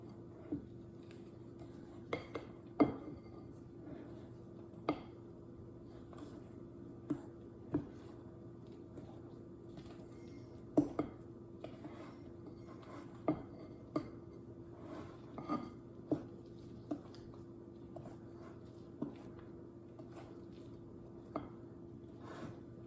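Cookie dough with diced rhubarb and an egg being mixed in a bowl, giving irregular clinks and taps of a utensil against the bowl over a soft background, with no talk.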